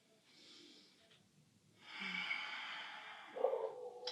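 A long, breathy exhalation during a stretching exercise, following a softer breath, close and quiet with no talk over it.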